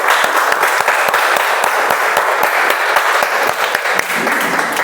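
A big round of applause from a speech-club meeting audience for a member's first speech, steady dense clapping with some distinct individual claps, sustained and fairly loud throughout.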